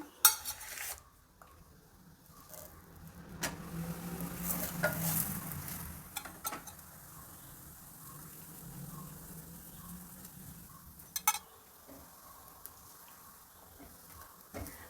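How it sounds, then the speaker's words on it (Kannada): Onion-tomato paratha cooks in oil on a hot griddle, giving a soft, steady sizzle with occasional scraping and clinks of a spatula against the pan, close and fairly quiet. "ನಾನಿಲ್ಲಿ ಎಣ್ಣೆ ಹಾಕಿ ಬೇಯಿಸ್ತಾ ಇದ್ದೀನಿ"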